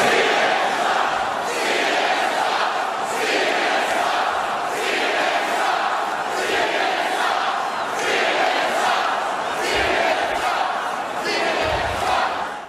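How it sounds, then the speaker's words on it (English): A large crowd at a Trump rally chants in a steady repeated rhythm, many voices roaring together at a loud, sustained level with regular pulses across the whole stretch. "crowds at the Trump rally, like we saw last night, hey, Don, hey, Jeff Zucker, they were chanting at you"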